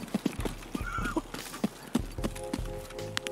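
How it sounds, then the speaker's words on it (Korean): Footsteps approach from the right in the video game Escape from Tarkov, a run of rhythmic, fairly close thuds over a low background hum, with brief other game noises mixed in. "오른쪽 발소리."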